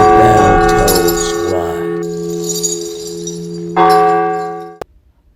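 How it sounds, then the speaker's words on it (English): A church bell tolls with long ringing overtones, struck twice with a sustained hum between, the second strike decaying before cutting to silence. "Remember when the bell tolls"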